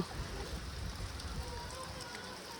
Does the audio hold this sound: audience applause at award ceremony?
no